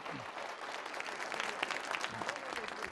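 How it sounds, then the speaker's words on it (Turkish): A studio audience on a Turkish folk music television show, in a 2006 broadcast, claps in dense, lively applause throughout, with some voices faintly mixed in beneath the clapping. "Alkışlıyoruz Mertcan'ı."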